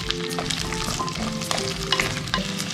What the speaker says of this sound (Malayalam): വെളിച്ചെണ്ണയൊക്കെ നന്നായി ചൂടായിട്ടുണ്ട്. അപ്പോൾ ഇതിലേക്ക് ചെറിയുള്ളി ഇട്ട് കൊടുക്കുകയാണ്